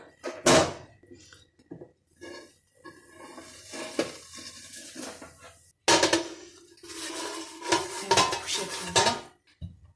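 Baked basma kadayif is flipped in a metal tray, giving close, intermittent metallic clatters and scrapes with brief pauses between them.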